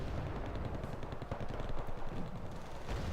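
Rapid gunfire from the Wargame Red Dragon video game hammers at a Gazelle helicopter, a dense, continuous crackle of shots and booms at moderate level.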